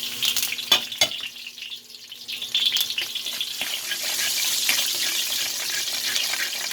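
Garlic fries in a pan with a bright, crackling sizzle that swells and settles into a steady hiss, close and moderately loud, with a few clinks early on and no voices.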